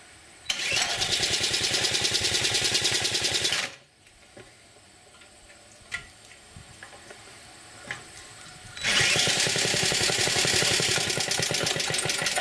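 A Briggs & Stratton 6S engine on a power trowel fires up and runs loudly for a few seconds, then cuts out to quiet clicks and knocks before it roars back to a steady run.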